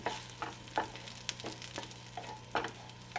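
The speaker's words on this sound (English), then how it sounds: "So we will roast it for some time." Dates (khajur) roasting in a pan while being stirred for sugar-free modak: a steady low sizzle broken by regular scraping strokes about every half second, close and fairly quiet, with no talking.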